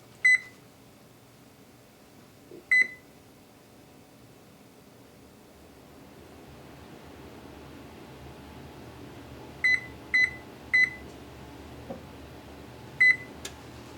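An oven sounds several short sharp electronic beeps, two alone and then a quick cluster, while being set to preheat to 200 degrees, over a low steady room hum.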